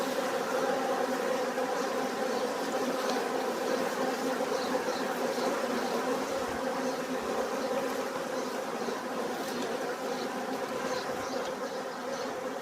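A dense, continuous swarm of honeybees buzzing close by at an open hive, a steady layered drone that never lets up.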